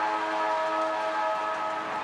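The final siren at an AFL match between Hawthorn and Collingwood blares as one loud, sustained tonal wail filling the stadium, steady and unbroken.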